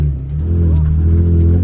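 A drifting car's engine revs hard under throttle, a loud, steady, sustained roar that climbs slightly and holds close throughout, with no talk over it.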